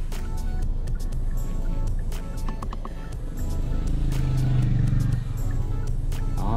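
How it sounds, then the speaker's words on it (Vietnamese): Kia Rondo GATH seven-seat car with its engine running at idle, a steady low hum heard from near the cabin alongside interior handling noises and a brief louder drone midway. "Các bạn thấy xe nổ máy êm ghê không?"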